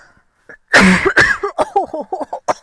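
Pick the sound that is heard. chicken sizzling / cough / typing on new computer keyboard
cough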